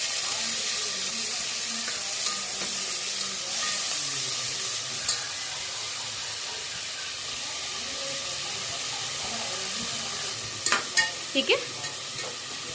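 Shrimp and chopped onion fry in a pan for a bottle gourd and field bean sambar. The result is a steady, close sizzle and hiss, with a few clinks of a spoon stirring toward the end and a brief spoken word.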